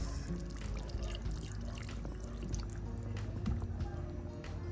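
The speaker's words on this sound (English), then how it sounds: "The gravy get too thick, so I throw a little bit of water on it." Water is poured into a thick curry gravy with chicken back in a pot, giving a faint, soft, continuous splashing and trickling sound close by with low kitchen background noise.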